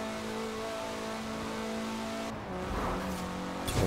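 A 200-horsepower rear-wheel-drive roadster from Forza Horizon 4 drives along with a steady engine drone, its pitch shifting partway through as the car changes gear and accelerates, close and prominent.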